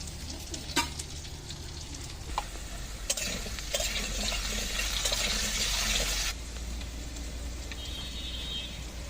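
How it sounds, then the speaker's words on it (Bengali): Fish frying crisply in a pan in a home kitchen, a steady broadband sizzle with a louder, denser burst in the middle, a few clinks of utensils, and no talking. "মুচমুচে করে এটা ভাজি করব"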